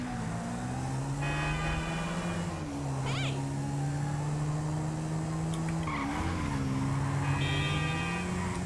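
A two-stroke drag motorcycle engine in GTA 5 drones steadily at high pitch, with revs dipping and rising, alongside brief squealing sounds, no talking.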